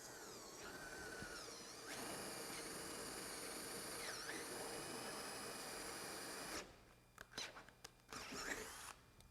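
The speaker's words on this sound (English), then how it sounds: "take our drill, make sure that we don't cut into the line that we want to cut" A power drill bores through wood for a car audio speaker box, whining loudly and steadily up close for several seconds, then cutting out into a few short, stuttering bursts.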